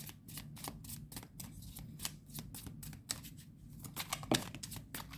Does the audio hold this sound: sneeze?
no